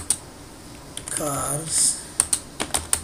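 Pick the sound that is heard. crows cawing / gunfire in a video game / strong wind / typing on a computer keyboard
typing on a computer keyboard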